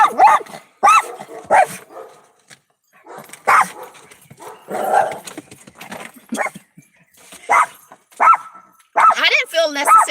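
Near a window, a dog barks repeatedly in short separate yaps scattered across the stretch, fairly close, alternating with a person talking over it.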